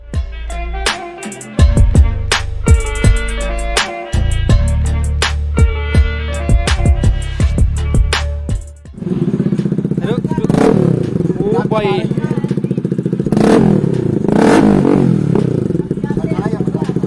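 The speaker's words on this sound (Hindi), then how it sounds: "अभी हमारे एग्जॉस्ट में जो है वो डीबी किलर नहीं है भाई, काफी तगड़ी साउंड आ रही है भाई" Bajaj Pulsar RS 200 motorcycle fitted with an aftermarket Akrapovic-style exhaust with the dB killer removed, its engine running loud and close with a deep, throaty rumble and rising revs after an opening stretch of rhythmic music.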